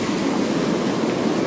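Sea waves at high tide on a Phuket beach, a continuous loud broadband wash of surf mixed with wind rush, steady throughout with no distinct breaks and no talking.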